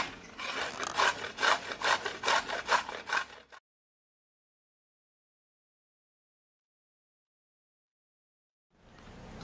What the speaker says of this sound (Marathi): आता आपण ती किसून घेऊया.